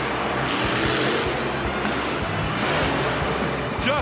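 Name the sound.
Bulldozer monster truck crushing a camper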